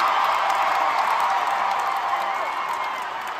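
A concert crowd at a show in Cleveland in 2024 roars and applauds in a broad, continuous wall of cheering that holds steady and then eases slightly toward the end.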